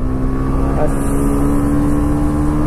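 A 2023 TVS Raider 125 BS6 motorcycle pulls hard through its gears in power mode, a loud, close engine drone with a steady buzzing tone and a brief shift in pitch partway through.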